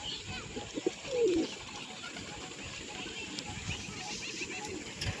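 Pigeons kept with their young coo softly nearby, with one clear throaty coo near the start over a low background while a person talks.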